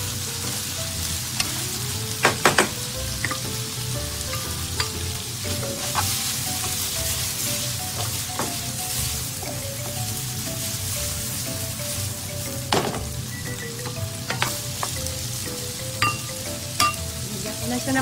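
Radish sizzles in a pan with smoked fish, a steady dense frying hiss with occasional stirring clinks and pops, close and continuous throughout, without any voices.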